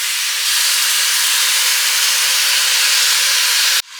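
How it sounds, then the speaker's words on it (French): Coconut milk pours into a hot pan of curry paste with frozen cauliflower, raising a loud, steady steam-like hiss that holds for several seconds and then cuts off abruptly near the end. "Je viens y mettre mon lait de coco."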